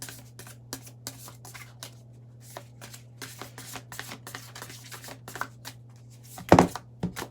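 Tarot cards are shuffled by hand in a quick, irregular run of crisp riffles and taps, close and fairly quiet, ending in a louder cluster of slaps.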